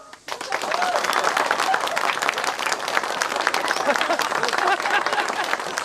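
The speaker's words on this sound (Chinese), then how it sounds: "上台致辞，掌声。" A crowd of wedding guests applauds loudly, with sustained, dense clapping that starts abruptly and keeps going. Voices can be heard beneath it.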